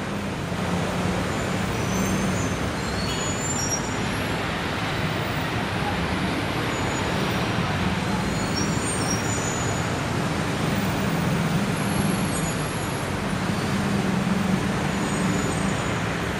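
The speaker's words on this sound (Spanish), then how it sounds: "Fíjense la cantidad de autos que hay, es impresionante." Heavy car traffic near the Friendship Bridge at Ciudad del Este makes a dense, steady roar of engines and tires, with occasional brake squeals and hisses high above the constant road noise.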